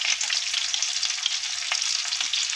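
Curry leaves and ginger garlic paste sautéing in hot oil for an Indian egg kurma, giving a steady, close, bright sizzle with faint stirring scrapes underneath and no talking.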